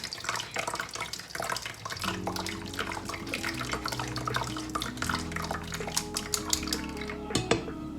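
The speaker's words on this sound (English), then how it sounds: "just adding a little bit more water" Water splashes and trickles steadily into a container of thick pineapple, mango and carrot juice, with some clinking of dishes nearby, fairly close and continuous.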